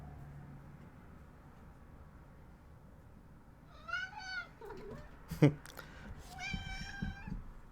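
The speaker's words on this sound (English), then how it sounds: "And that's exactly when the cat decided to jump on the computer." A house cat meows several times near the microphone, short rising calls in a quiet room with a faint low hum and a brief knock between them.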